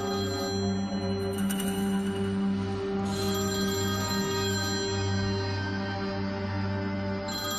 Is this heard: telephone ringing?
yes